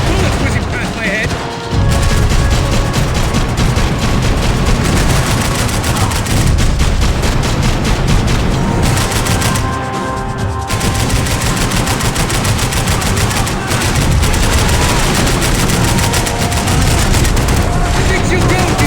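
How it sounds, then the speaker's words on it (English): Heavy sustained gunfire in the action shooter Max Payne 3, loud continuous automatic bursts with bullets whizzing past, nearly unbroken apart from two brief pauses, with shouted voices partly buried under the shooting. "Bullets whizzing past my head!"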